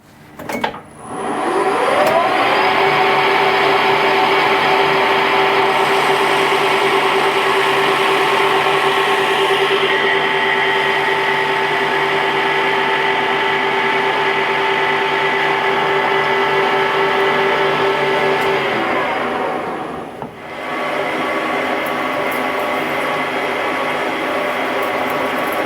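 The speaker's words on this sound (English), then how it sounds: "This is a piece of stainless 10mm rod, and we need to put a 3/8 thread on the end. So we need to machine a bit down." A lathe turns down a 10mm stainless steel rod to take a 3/8 thread for a valve spindle on a 7 1/4 inch steam locomotive, giving a loud, steady whining drone with a ringing tone for about seventeen seconds before it spins down.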